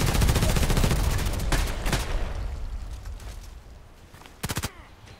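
Mortar and gunfire in the Contract Wars shooter game: a dense rattling volley at the start that gradually fades, then a short sharp burst of rapid shots near the end.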